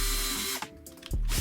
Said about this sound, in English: I'll drill a 1/4-inch hole into the rim